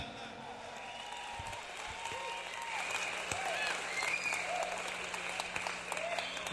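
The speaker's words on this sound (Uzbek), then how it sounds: "chiroyli kelin kuyovlarimizga bir qarsak bo'lsin, hurmatli mehmonlar" Wedding guests at a double Uzbek wedding applaud the bride and groom, a steady crowd clapping that swells slightly midway, with a voice speaking over it and faint music tones in the background.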